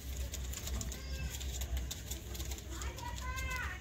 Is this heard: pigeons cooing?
yes